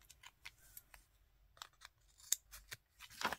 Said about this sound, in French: Mon petit ciseau, il est là.